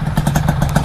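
A tuned motorcycle engine is revved up close, a loud rapid pulsing burble with clattering exhaust beats over a brief burst.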